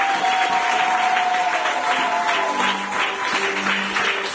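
A church congregation in Dar es Salaam claps loudly and continuously, a thick rattle of many hands close by, with sustained musical tones ringing beneath it.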